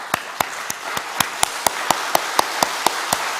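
Evenly spaced claps ring out at a steady rhythm over a soft hiss of many hands, a church congregation clapping together to mimic falling rain.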